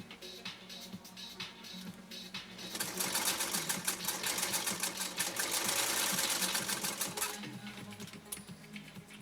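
A Singer 192K sewing machine with a 0.8 amp motor stitches through a single layer of vegan leather, quiet handling sounds giving way to a fast, loud, steady needle chatter that runs for several seconds and then winds down.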